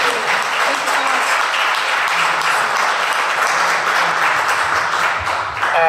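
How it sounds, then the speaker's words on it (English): Steady, sustained applause from a sizable crowd at an international academic congress, dense and even throughout without letting up. "Just a big applause for the big effort."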